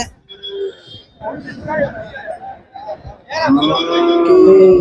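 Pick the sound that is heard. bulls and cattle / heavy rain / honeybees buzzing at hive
bulls and cattle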